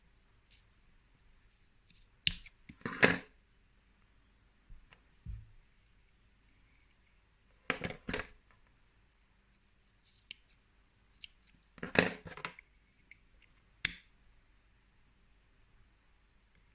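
Scissors snip through waxed cord while making a Buddha bag charm, several crisp close cuts in separate bursts with quiet pauses between.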